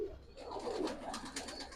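A Kaldom pigeon, a large high-flying breed, coos faintly and softly in a low, continuous murmur against quiet background noise.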